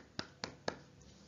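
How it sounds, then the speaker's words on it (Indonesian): Three crisp, evenly spaced claps in a classroom, fairly faint against low room noise. "Oke, pintar juga. Beri tepuk tangan."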